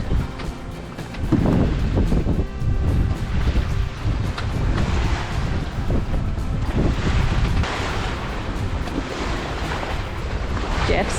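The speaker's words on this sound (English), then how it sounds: "Jeff sailing Chuffed" A sailboat under way at sea near La Paz, with heavy wind buffeting the microphone and rushing water against the hull throughout, loud and continuous.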